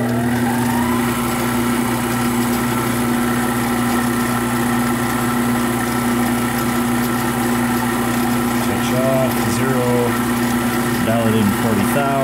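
A lathe turning a plastic spacer or bushing runs in high gear with a steady, loud motor hum and whine that persists throughout, while someone talks over it.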